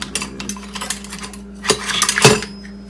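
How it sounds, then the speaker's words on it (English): A spoon gets pulled from a drawer of cutlery, with bright metallic clinks and rattles, light at first and then two louder jangling bursts near the end, close by. "And I've got to grab myself a spoon."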